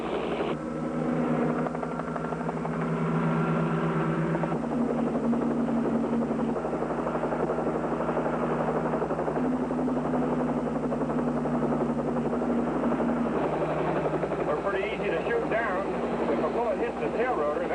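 A highway patrol helicopter flies in pursuit, its rotor and engine making a continuous close drone that holds steady throughout, with people talking over it.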